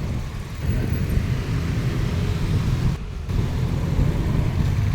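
Kawasaki ZX-10R sport motorcycle with its stock exhaust, ridden along a road: a steady, loud low engine rumble with road and wind noise, dipping briefly for a moment before resuming.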